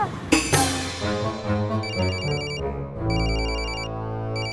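A phone ringtone sounds for an incoming call, starting with a bright chime and a musical melody. A trilling electronic ring then repeats in two bursts, loud and close, with no talk over it.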